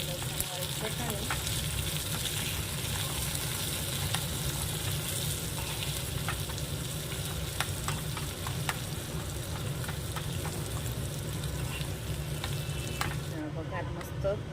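Tempering (vaghar) for green garlic chutney sizzling in hot oil, a loud continuous close crackle with scattered pops and occasional stirring scrapes throughout.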